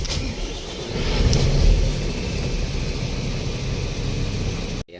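A truck engine runs loudly and close with a steady rumble that swells slightly early on, then cuts off abruptly at the end, heard alone without talk.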